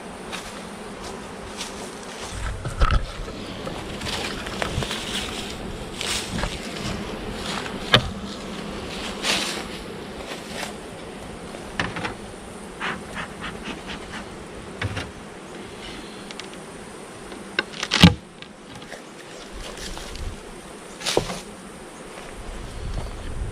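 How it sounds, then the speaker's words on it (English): Honeybees droning around an open hive during a fall hive inspection, a steady buzzing hum with occasional louder passes of individual bees close by and faint handling noises. "It looks like we've got quite a bit of bees in there."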